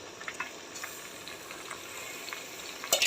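Chicken, with potato and spices, cooks in a pan with a soft, quiet sizzle and bubbling throughout, plus a few light clinks near the end.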